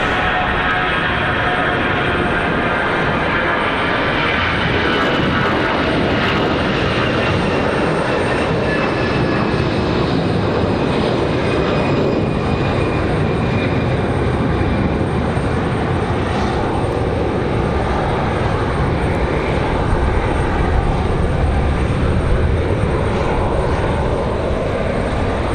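An airliner takes off from Raleigh-Durham International bound for Fort Lauderdale, its steady broadband engine roar loud and continuous throughout, with wind adding to the wash of noise.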